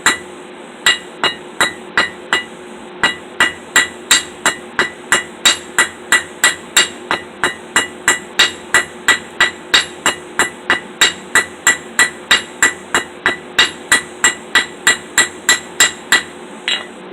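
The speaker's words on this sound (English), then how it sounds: "Now I'm going to taper this end" A blacksmith hammers the end of a forged iron hook to a taper, with dozens of sharp ringing strikes in a fast, steady rhythm and brief pauses, close, loud and alone.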